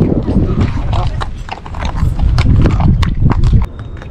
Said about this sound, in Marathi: तर आता इकडे घोड्यावर बसायचं होतं